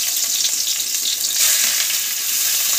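Garlic fries in hot oil for a chicken momo filling, giving a loud, continuous crackling sizzle that swells slightly midway and carries on steadily with no talk.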